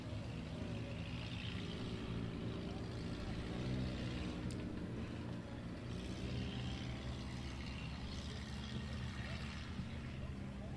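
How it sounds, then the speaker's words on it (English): Race cars circle Big O Speedway, where a dense engine roar holds steady throughout. Faint crowd and announcer voices mix in under it. "looks like we're going to have to slow down the cars here so we can get these cars lined up correctly"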